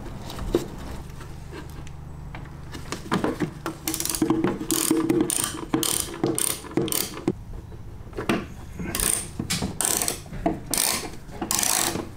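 A hand ratchet tightening screws on the fuel tank liner cover of a BMW E30, with rapid bursts of close clicking pawl strokes, short pauses between runs and some faint handling noise.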